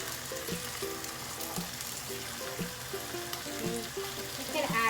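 Bacon crisps in a pan with a steady, close sizzle, dense crackling and popping, and occasional stirring scrapes throughout, with no voices.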